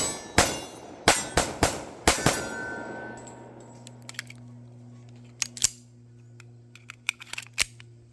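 A .45 ACP 1911 pistol fires a rapid string of six loud, sharp shots over the first two and a half seconds, each with a ringing tail. A few quieter clicks and clinks of handling follow, and no one speaks.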